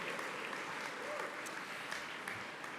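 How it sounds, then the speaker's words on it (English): Steady crowd applause filling the room at an awards event, dense and continuous clapping from many people throughout. "How about another round of applause for Belinda?"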